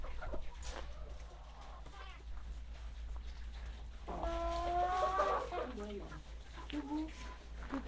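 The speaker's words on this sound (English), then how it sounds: "I like the fluffy ones, yeah, fluffy chickens." Fluffy-breed chickens cluck and squawk at a French DIY store, with a few close, distinct calls rising over a low steady hum and faint background chatter.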